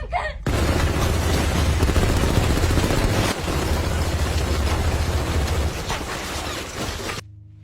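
A small house is riddled with dozens of gunshots in the film Inuyashiki: a loud, dense, unbroken barrage of rapid gunfire that runs for about seven seconds, then cuts off abruptly.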